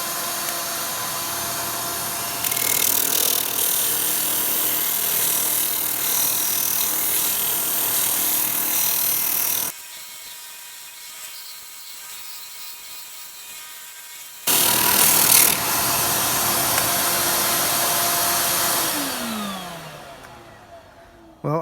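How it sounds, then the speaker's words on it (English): Wood being sanded with a power tool while a shop vac runs and pulls the dust away, a steady loud rasping whir that pauses briefly midway, then resumes and winds down at the end. "this shop vac is amazing, sucking that dust right off of there"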